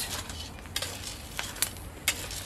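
Sharp pops and crackles scattered over a steady hiss of green coffee beans roasting, a few distinct snaps standing out, fairly faint and close.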